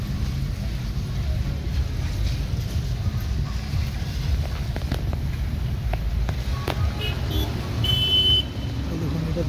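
A car drives down a slope past a sandy riverbank near a barrage, its engine rumbling low and steady with road noise throughout, a few faint clicks and a brief high tone near the end.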